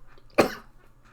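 A single short, sharp cough from a person with a sore throat, close and distinct against quiet background.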